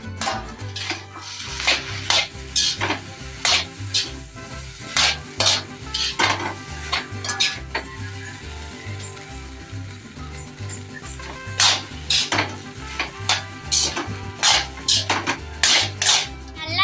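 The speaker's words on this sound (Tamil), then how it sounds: "இப்ப நூடுல்ஸ் சேர்க்க போறோம். இப்ப நல்லா கிண்டி எடுத்துக்க போறோம்." Hakka chicken noodles stirred and tossed in a pan, with repeated scraping and clattering of a utensil against the metal over a steady sizzle, heard close and loud with no voices.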